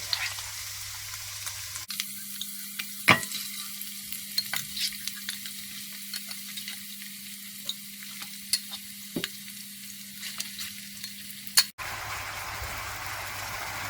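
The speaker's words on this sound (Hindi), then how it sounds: "अब इसमें गोश्त डाल देते हैं।" Mutton frying in a pan with continuous sizzle and a few sharp clanks of a utensil, fairly close, no talking.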